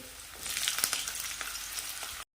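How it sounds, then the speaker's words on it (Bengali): Potatoes fry in a generous amount of oil, giving a steady close sizzling hiss with small crackles for about two seconds before it cuts off, no voices. "আলুগুলো যতক্ষণ ভাজা হচ্ছে"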